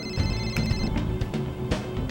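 Mobile phone ringtone going off on a film set, a steady high electronic tone pattern lasting the first second, with background voices and low room noise continuing around it.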